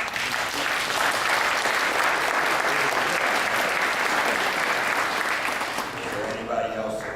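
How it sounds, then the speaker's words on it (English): Steady applause from a class reunion audience at a rose ceremony, dense and sustained for several seconds before thinning out, with a voice starting to speak near the end. "So I applaud Dewey on that."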